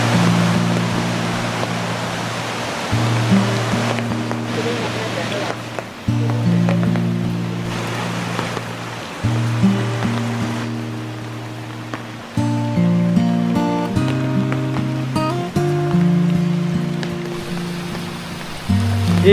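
Clear stream water flowing beside a tree trunk at Devkund waterfall in Odisha, a steady rushing, splashing wash with loudness that shifts in sections and no talk.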